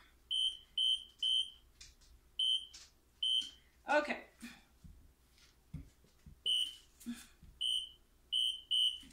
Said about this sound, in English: Sorry about that obnoxious noise. That is just the way my crock pot is.